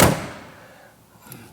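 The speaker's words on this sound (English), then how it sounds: "And again, these doors close good." A door on a 1937 Ford Deluxe four-door sedan with a flathead V-8 shuts with one solid thud at the start, then a brief faint knock near the end.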